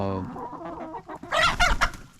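Several chickens cluck and squawk close by, starting with a low call and building into a louder burst of agitated squawking near the end.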